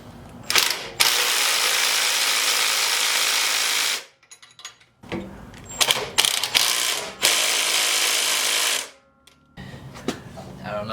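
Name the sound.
ratchet tightening mini bike hardware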